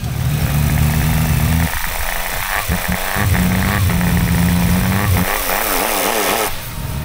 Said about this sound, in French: le son de ce 3 cylindres